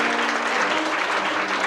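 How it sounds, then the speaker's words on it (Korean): Wedding guests in the Grand Ballroom of The Convention in Jamsil give a dense, continuous burst of applause as the bride and groom bow to each other. "맞절 박수 부탁드리겠습니다."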